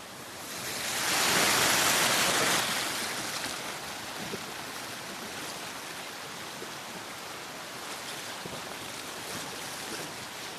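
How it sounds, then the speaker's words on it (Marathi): A village river swollen after rain rushes along steadily, with a broad, hissing flow that swells loudly for a couple of seconds near the start and then settles into an even, continuous roar with no voices. "पण तुम्ही नदीचा आवाज ऐकू शकता, किती सुंदर येतोय."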